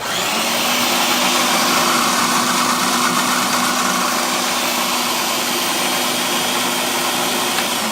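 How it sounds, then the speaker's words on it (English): A food processor blitzes a mushroom mixture, its motor whirring loudly and steadily for the full eight seconds with no voices. "And I'll give this one more quick little blitz."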